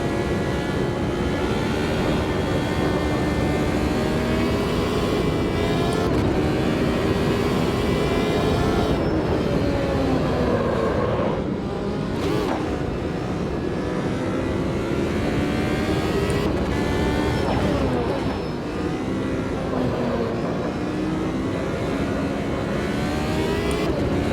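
F1 Gen 02 race car from the Automobilista 2 racing game accelerating hard down a long straight at Jacarepagua, a loud, continuous high-revving engine whine with rising pitch sweeps and brief dips at gear shifts, heard alone throughout.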